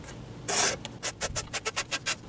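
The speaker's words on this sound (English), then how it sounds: "Reinstall the oil filter and cap combo" A plastic cartridge oil filter cap being screwed by hand into the housing of a Dodge Avenger, a quick rasp followed by a steady series of short rhythmic scraping clicks, close and distinct.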